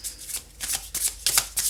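Deck of tarot cards being shuffled by hand, a quick series of crisp riffling bursts in close succession, near and fairly loud, with no talking.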